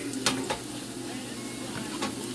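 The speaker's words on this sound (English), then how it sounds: "Oh, they're frying quite nicely. They're frying really good." A soft, steady sizzle of fish and plantain frying in a pan, with a few light clinks and scrapes of a utensil.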